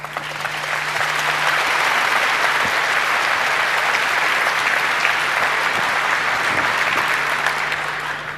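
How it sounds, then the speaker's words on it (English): A large conference crowd at 34C3 claps steadily to welcome a speaker, a loud, even wash of applause that holds across the whole stretch without letting up, with no talking over it. "please give a warm round of applause for the Ultimate Apollo Guidance Talk"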